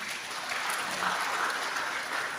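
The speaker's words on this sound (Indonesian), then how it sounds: "tepuk tangan untuk Ibu Panglima ini" Dense, sustained applause from a large crowd at a Maulid Nabi gathering honouring Ibu Panglima, an even wash of many hands clapping throughout.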